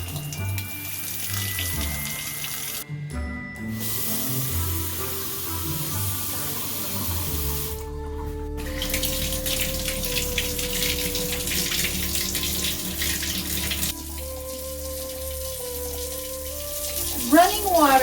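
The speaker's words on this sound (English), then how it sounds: "Running water, one of life's wonderments, a luxury." A kitchen faucet in a wooden tiny house runs water into the sink with a steady, close hissing splash that shifts in tone as the flow changes, with a few faint background sounds.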